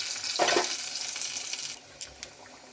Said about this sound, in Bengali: একটু রসুনটাকে আমি তড়কা দেওয়ার জন্য ভেজে নিচ্ছি